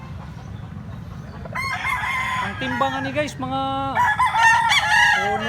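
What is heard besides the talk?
rooster crowing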